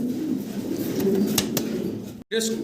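A pair of Mac Bi Danish fancy pigeons coo in low, steady murmurs inside a loft, filling the clip with a continuous soft rumble that cuts out for a split second near the end.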